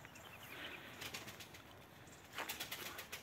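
Pigeons flapping their wings in bursts, a quick flutter early on and louder clattering wingbeats near the end, set against faint outdoor ambience.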